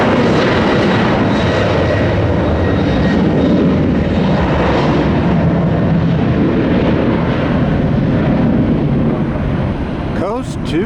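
Airliner passing overhead at Tampa airport, a loud broad engine roar holding steady for several seconds and easing slightly near the end.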